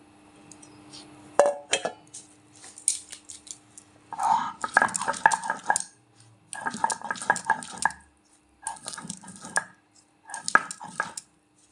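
Spices ground on a shil-nora grinding stone, rough scraping strokes arriving in repeated bursts of about a second each, separated by short pauses, close and fairly loud.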